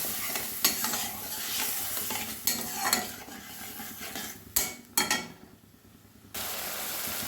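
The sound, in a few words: spices being stir-fried in oil for snakehead fish curry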